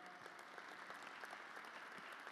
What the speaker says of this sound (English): I noticed some folks clapped